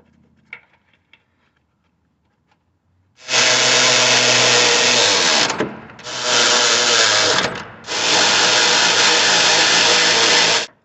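A power tool tightens the engine mount bolts on the passenger-side mount of a 2010 Chevy Tahoe. After a quiet start, it runs in three long, loud, close bursts separated by brief pauses.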